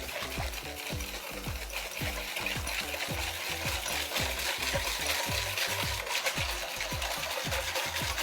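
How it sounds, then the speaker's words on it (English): A whisk beats banana pancake batter in a bowl with a steady, fast rhythm of repeated clicks and wet slaps, close and fairly loud, with no talking. "Turn your bowl while you're whisking to ensure that you catch all the corners"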